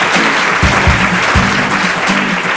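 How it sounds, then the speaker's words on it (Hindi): Studio audience on a Hindi quiz show applauds a contestant, a steady dense wash of clapping filling the whole stretch at full volume with no break. "जोरदार तालियां हो जाएगी"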